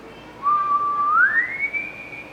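A single clear whistled note that holds steady, then glides upward to a higher pitch and sustains, alone and close.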